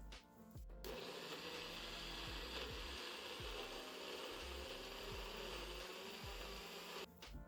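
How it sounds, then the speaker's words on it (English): A blender motor whirs loudly and steadily for several seconds, with chunky thumping underneath as it churns apple and carrot, starting and stopping abruptly. "our blender, and we are going to blend"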